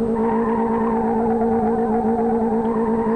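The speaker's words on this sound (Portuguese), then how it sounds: "Agora eu vou mandar um burnoutzão com o Astra aí na subida de casa aqui, até estourar o pneu" A simulated Opel Astra 2.0 turbo holds a burnout on an uphill street in Live For Speed, its engine droning at a loud, steady high pitch with tire scrub layered underneath, unbroken throughout.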